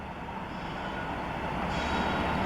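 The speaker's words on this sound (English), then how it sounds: "So he looks to be a grain train of some kind." A freight grain train rolls past, a dense continuous rumble of wagons on rails that grows slightly louder over a couple of seconds, with no voices.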